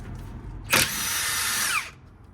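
A single short burst from a Milwaukee 1/2-inch high-torque impact wrench hammering a fastener: a sharp attack, then about a second of steady high whine that cuts off, close by.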